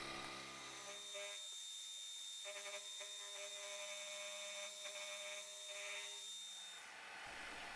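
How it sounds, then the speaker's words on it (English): Milling machine squaring up rough bandsawn clamp parts in a shed workshop: a steady close whine of the cutter with tonal hum and grinding texture, running continuously before winding down at the end. "I'm using the milling machine to square them up and to make them nice and smooth."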